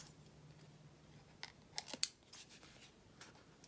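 Scissors snip off the clear overhang of an acetate sticker in a few faint, crisp cuts close by, the sharpest one standing out against a quiet background.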